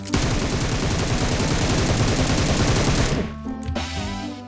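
An M7 rifle firing in the video game PUBG Mobile: a rapid, evenly spaced automatic burst lasting about three seconds, loud and close, then a brief ringing tail with a few quieter clicks.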